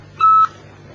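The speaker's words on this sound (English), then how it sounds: "It starts beeping when the activity is about to happen." A single short beep from an electronic calendar reminder, clear and steady, lasting about a quarter second before stopping.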